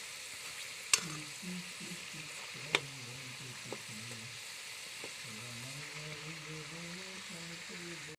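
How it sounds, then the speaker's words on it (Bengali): Bengali pitha rice cakes frying in oil over medium heat make a soft, steady sizzle with a few sharp taps of a utensil, while a voice talks quietly over the frying. "এগুলোকে মিডিয়াম আঁচে ভেজে নিতে হবে।"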